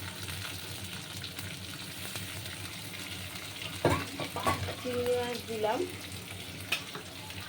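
Shrimp sizzle and fry steadily in a hot pan with garlic, with clattering stirring and a brief spoken word partway through.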